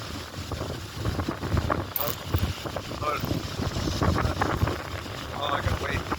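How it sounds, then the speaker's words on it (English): Strong wind buffets the microphone outdoors during a fishing trip in Papillion, Nebraska, a steady low roaring rumble with gusty swells that runs loud and continuous throughout. "the wind's too strong for that one"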